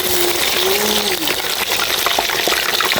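Hot oil sizzles and crackles steadily up close as tilapia fries in a pan, with a brief whistling tone near the start.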